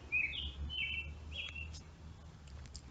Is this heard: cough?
no